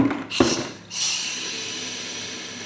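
Air and water hiss from a Waterdrop spotless car wash gun being purged of air, with a sharp burst and short gap before a steady, fairly loud hissing spray continues.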